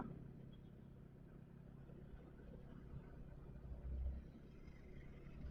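A Yamaha Filano scooter engine climbs a hill beside a broken-down bus, giving a faint, steady low hum that swells briefly near the end.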